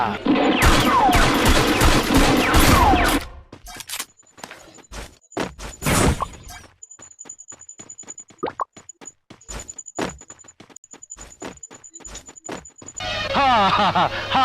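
Rapid bursts of gunfire crack sharply, mixed with loud shouting and music, then a high steady tone rings between scattered shots.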